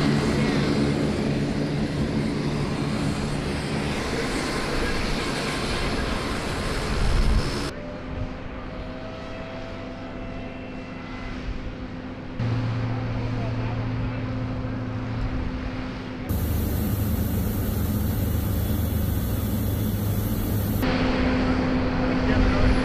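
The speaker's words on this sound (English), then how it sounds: "Was this your first time on a C-130?" Inside a C-130 aircraft in flight with a Channel Islands Air National Guard unit, a steady heavy propeller engine drone fills the cabin throughout, shifting in tone between segments, while people converse over it.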